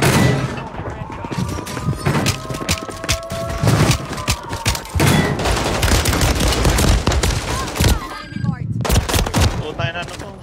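Gunfire in a video game fight, alternating single loud shots with rapid machine-gun bursts and thuds, while players talk over the action.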